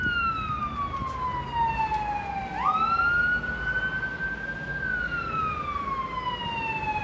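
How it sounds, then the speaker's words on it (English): A fire truck siren wails close by during a Toronto snowstorm, its pitch sweeping down then climbing again as the truck passes, loud and steady over traffic rumble. "another fire truck I hear."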